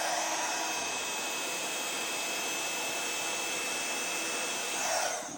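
Heat tool blowing hot air onto a die-cut paper butterfly, a steady close whooshing roar with a faint high whine that holds evenly throughout and swells slightly just before the end.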